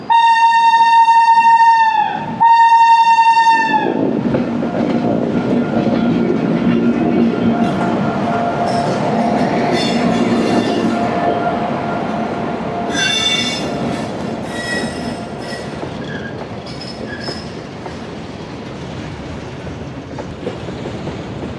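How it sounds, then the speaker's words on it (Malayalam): A slow goods train passes close by, opening with a loud two-part blast of an old-style horn, then long grinding wheel squeal and rumbling wagons that keep rolling past, fading slightly toward the end. "പണ്ടത്തെ ട്രെയിനിൻ്റെ പോലത്തെ ഹോൺ അല്ലേ അതിൻ്റെ സൗണ്ട്."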